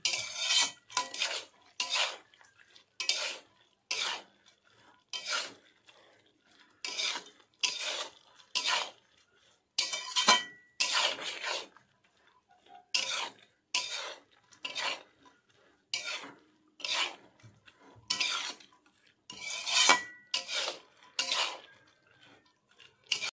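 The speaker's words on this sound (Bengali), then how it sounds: "বন্ধুরা মিডিয়াম আছে 5 থেকে 7 মিনিট এইভাবে নাড়াচাড়া করে নেব" A spoon scrapes a pan again and again in a steady rhythm, crisp and close, stirring a thick motichur laddu sweet mixture over medium heat, with no voices.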